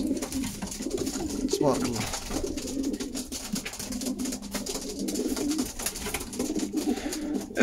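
Young pigeons (squabs) coo softly and repeatedly close by, mixed with someone speaking over them.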